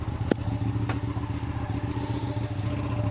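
A KTM 1190 Adventure or 959 Panigale motorcycle engine runs steadily on a Chicago street, a low even rumble with a couple of sharp clicks near the start.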